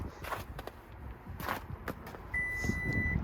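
Footsteps shuffle on pavement outdoors, then a steady electronic beep tone from a car's power liftgate warning starts and holds through to the end.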